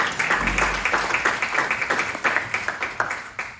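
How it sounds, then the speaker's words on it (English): Audience at a Citizen of the Year award event gives a round of applause, steady overlapping hand claps at moderate loudness filling the room for a few seconds. "So a round of applause there."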